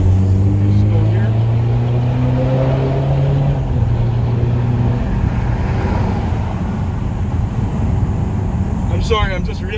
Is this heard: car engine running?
yes